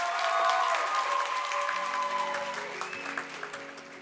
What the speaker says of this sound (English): one more round of applause for our contestants